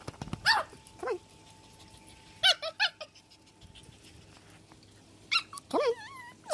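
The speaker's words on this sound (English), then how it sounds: "Jasmine, stop barking." A dog named Jasmine lets out several sharp, high, squeaky barks and yelps in short bursts spread across the moment, fairly close, with quiet gaps between them.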